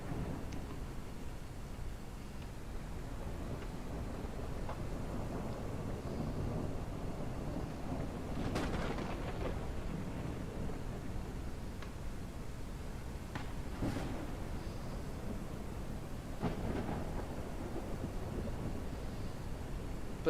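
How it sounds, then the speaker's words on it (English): Video game thunder rolls in a stormy backdrop. Several faint cracks and rumbles sit over a steady wash of rain-like noise, with no talk. "I feel like the thunder sounds have changed."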